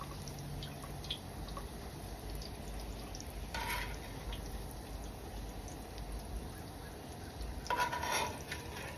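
Salmon croquettes frying in a pan, a soft steady sizzle with a few brief louder bursts of spattering oil, no talking.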